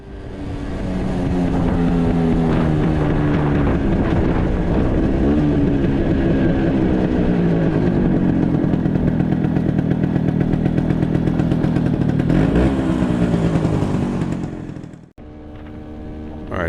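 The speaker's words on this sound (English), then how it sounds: "this is actually the first time I've taken the bike over 30 miles an hour" Rebuilt Stella scooter ridden at over 30 miles an hour on its first shakedown run, its engine droning steadily close by with shifting pitch and wind rush, then dropping sharply near the end.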